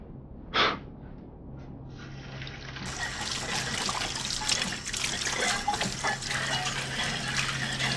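Dishes washed under a running kitchen tap, a steady close rush and trickle of water that starts after a short breathy sound and continues evenly, with no talking.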